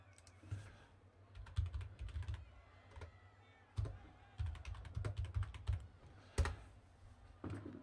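Rapid bursts of typing on a computer keyboard, close and fairly quiet, with clustered keystrokes separated by short pauses and a few sharper, louder key hits.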